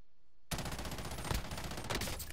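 Sniper gunfire in a shooter video game comes in as a sudden loud burst of shots that starts after a brief quiet moment. Dense, rapid cracks follow, with a couple of sharper peaks near the end.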